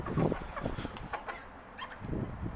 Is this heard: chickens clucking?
yes